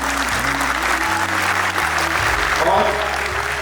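A crowd at a Saraswati Puja gathering applauds a teacher with steady, dense clapping that fills the whole stretch, with low sustained tones running underneath.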